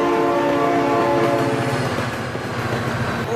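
Train rolling past in the BeamNG.drive driving game, a sustained loud horn blast over the steady rumble and rhythmic clatter of rail cars, close by and continuous throughout.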